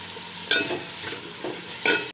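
Winter vegetables stir-fried in a pan for khichuri: a crackling sizzle with three sharp scraping strokes of a spatula, close and clear, no talking.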